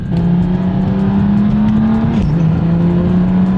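A car with a custom-tuned built transmission accelerates hard in Sport Plus mode on paddle shifts, the engine droning loud and close as the revs climb, then a quick shift drops the pitch before it pulls again.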